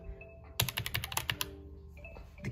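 A fast, uneven burst of key presses rattles on a Roccat Vulcan Pro gaming keyboard, roughly a dozen crisp, close clicks packed into about a second, then a few isolated taps after a pause, with no voices.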